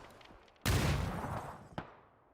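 A grenade explodes in a competitive shooter video game match: one sudden, loud blast with a rumbling decay, then a smaller, sharp crack about a second later.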